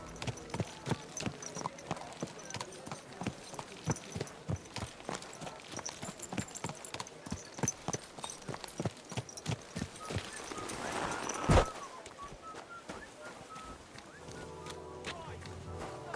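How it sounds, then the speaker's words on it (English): A horse's hooves clip-clop in a steady trotting rhythm in Kingdom Come: Deliverance II, close and clear, then slow and fade toward the end as game sounds take over. "Easy, good horse."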